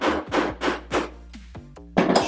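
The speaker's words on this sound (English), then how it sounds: "Then we're gonna take a hammer and punch this in." A hammer strikes a punch into a part of an F17 firearm during cleaning and reassembly: four evenly spaced metallic taps, then two lighter ringing taps and one more firm blow, close and clear with no talk.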